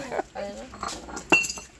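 Glass marbles clink together in a few bright, sharp taps at close range, mixed with soft voices and background chatter.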